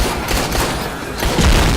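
Pistol shots crack in rapid succession in the Xbox One game Dead Rising 3, loud and close over a busy, noisy background of game effects.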